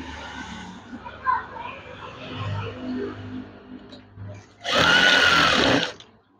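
A sewing machine stitches a folded curtain hem, a loud dense whir in a short burst of about a second near the end, preceded by quieter fabric handling and a voice speaking.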